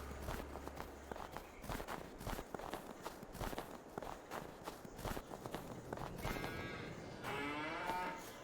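Cows moo repeatedly at a cow barn in Farming Simulator 22, heard over steady footsteps. The lowing swells into long, clear calls near the end.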